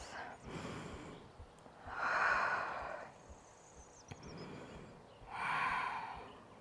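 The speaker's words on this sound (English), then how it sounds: "Take a full breath." Slow, deep breaths during a yoga power flow, two long audible inhale-exhale swells, close and soft, with quiet room background between them.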